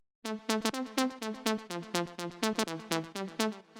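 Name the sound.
filtered saw wave synth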